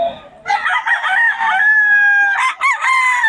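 Sweater gamefowl roosters crow loudly and close at a market: one long, strained cock-a-doodle-doo, then a second crow right behind it, with a brief cluck at the start.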